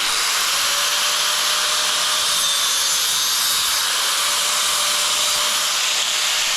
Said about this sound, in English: what you do is just cut it with the grinder